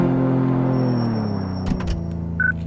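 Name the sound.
car engine in Car Mechanic Simulator video game, sounds like a van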